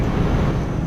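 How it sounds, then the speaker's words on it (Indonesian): A Mercedes-Benz Axor dump truck engine in the video game Bus Simulator Indonesia drones in a steady low roar, loud and continuous throughout the short stretch. "Jadi ini suara mesin Mercy"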